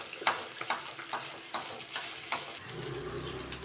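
Food fries in a pan with a spoonful of pepper, stirred in about six even scraping strokes before a softer, continuous sizzle takes over; no one speaks.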